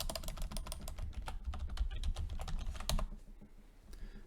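Rapid clattering keystrokes on a computer keyboard while typing a password for a VPN admin login, close and fairly loud, ending after about three seconds into quiet room tone.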